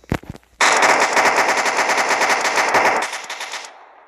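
Automatic gunfire from a SCAR rifle in a Minecraft PE guns addon: one short shot, then a loud, continuous rapid burst of about three seconds that ends with a brief fading tail.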